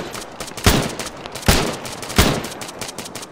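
Gunfire in the Arma 3 military shooter, three heavy, evenly spaced shots roughly three-quarters of a second apart over a noisy background, loud and close with no talk.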